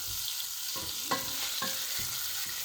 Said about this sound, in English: Now I have some chopped up sausage, which I needed 2 hands for, so I had to pause the recording. I'll stir fry it a little bit